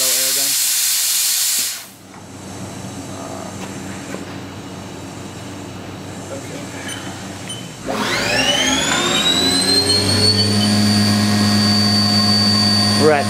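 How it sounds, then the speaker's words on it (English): Compressed air blasts loudly inside a Haas TM-2 vertical machining center, a steady broadband hiss that drops briefly near two seconds, then swells again with a rising spindle whine layered on top. "Yeah, the auto air gun."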